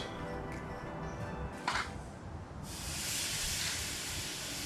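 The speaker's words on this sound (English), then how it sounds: "That's the sizzling sound there, guys. That's the one you want to hear." A broad hiss swells up and holds steady as oiled, spiced flank steak sears on a hot grill, close and fairly loud after a brief clatter.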